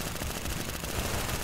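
Rapid video game gunfire from the Roblox-style shooter Arsenal, a dense, continuous burst of automatic shots filling the clip at steady loudness with no speech.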